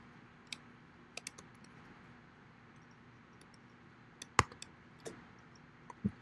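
Sparse computer keyboard clicks, a few isolated keystrokes and short bursts spread over several seconds while typing code, quiet against a low steady background hum.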